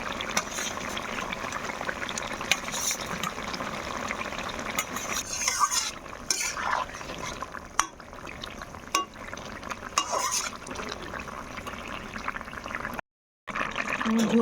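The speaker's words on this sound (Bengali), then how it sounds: "এবার আমি যে মাছটা ভেজে রেখেছিলাম সেই মাছটা দিয়ে দিচ্ছি।" Fried moroka fish is slid into a simmering curry of ridge gourd and potato. Liquid bubbles and sloshes under intermittent stirring and scraping, with a voice faintly present at times.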